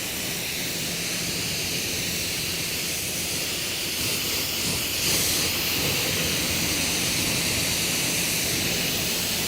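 Water spray rinsing a car being detailed with household products, a steady broad hiss that swells slightly midway and runs continuously without any talk.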